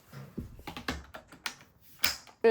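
A filled water tank is fitted into a Rakujin all-in-one wet mop vacuum, producing a quiet series of plastic knocks and clicks that end in a sharper, louder snap.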